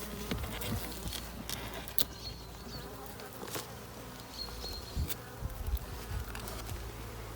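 Honeybees buzz around an open hive during an organic varroa mite treatment, a constant close hum with individual bees zipping past, plus occasional light knocks and handling noises.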